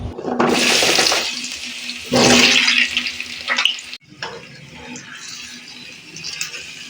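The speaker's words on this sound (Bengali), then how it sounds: "তেলটা গরম হয়ে এলে টুকরো করে কেটে রাখা কুমড়োগুলো দিয়ে দিলাম" Pumpkin pieces drop into hot mustard oil with a loud hissing sizzle, followed by steady, quieter crackling as they fry.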